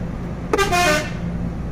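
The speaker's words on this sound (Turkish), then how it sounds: "Bak girme diye korna çalıyorum sana, uyarı veriyorum." A single loud horn blast of about half a second from a Ford F-MAX truck, close by, over steady road and engine noise.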